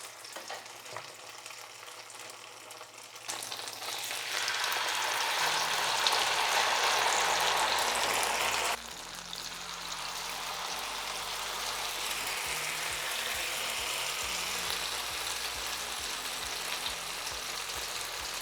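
Raggmunk, thin flattened Swedish potato pancakes, fry in a hot pan with a steady broadband sizzle that jumps louder after a few seconds, then settles into a continuous crackle, close and alone with no talk.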